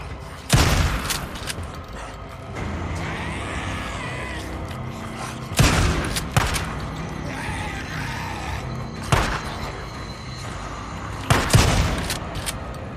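Gunfire in the game Days Gone rings out as four loud, sharp shots spaced a few seconds apart over a steady rumbling backdrop, each followed by a brief echoing tail.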